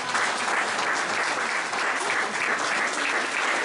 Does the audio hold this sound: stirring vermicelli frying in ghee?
no